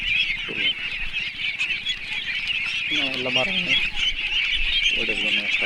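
A flock of ducks on a village duck farm in Bangladesh quacks and honks steadily close by, with a voice talking over the birds at moments.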